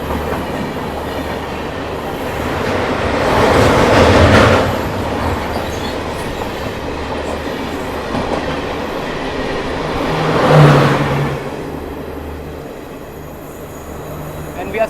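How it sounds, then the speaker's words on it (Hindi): The Barmer Bandra Humsafar Express crosses on the adjacent line, heard from aboard a moving train as a continuous rumble and rhythmic wheel clatter that swells loudly twice as the cars rush past. "Crossing with Barmer Bandra Humsafar Express, late running."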